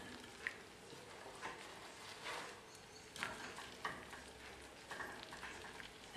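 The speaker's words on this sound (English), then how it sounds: "I'm just going to let them fry and crisp on all sides" Day-old bread cubes fry in olive oil in a skillet, a steady close crackling sizzle with occasional louder pops and scraping stirs, no voices.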